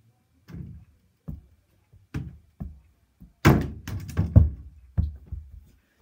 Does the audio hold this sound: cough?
no